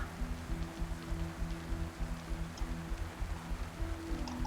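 Steady rain patters and hisses continuously in the game DayZ, with a low droning rumble underneath and no voices.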